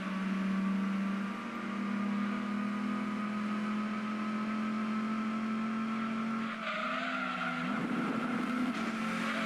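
A Mercury Cougar race car in Gran Turismo 2 roars at high revs with a sustained engine whine that drops in pitch as it downshifts late in the run, joined by brief tire squeal, loud and continuous.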